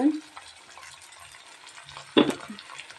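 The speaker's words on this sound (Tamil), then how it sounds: "நல்லா தக்காளி வெங்காயம் நல்லா ஃப்ரை ஆகட்டும்" Tomato and onion fry in a pan for a mixed chutney, giving a low, quiet sizzle with one sharp stirring scrape near the end.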